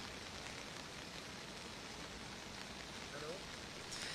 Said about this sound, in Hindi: श्वेता, जो चिंता की बात है, क्योंकि ये बारिश अब शुरू हो गई है